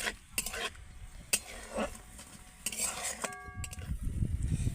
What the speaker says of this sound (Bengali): এবার আমি ভালো করে নেড়ে নেড়ে পুরটাকে বানিয়ে নেব